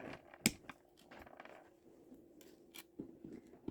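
Small cutters snip chain links to length for a dangle keychain charm, giving one sharp close click followed by a few softer clicks and handling rustle, no talk.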